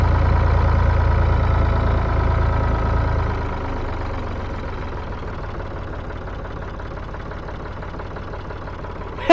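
Engine of a 1965 Ford 3000 tractor running steadily, loud and close, with a deeper, heavier rumble at first that eases to a lighter idle-like chug after a few seconds, ending with a brief sharp noise.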